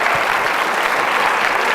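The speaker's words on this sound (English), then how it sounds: "Give these folks a round of applause." Steady, dense applause from an audience at a stage hypnosis show fills the moment, loud and even throughout with no break in the clapping.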